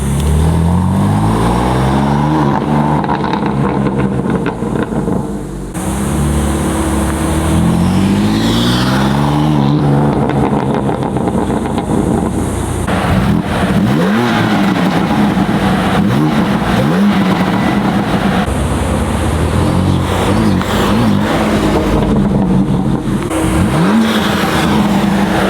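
BMW M3 fitted with front mount intakes, the engine revving and accelerating hard with rising and falling turbo whooshes and spool sweeps, loud and close, sustained for the whole stretch.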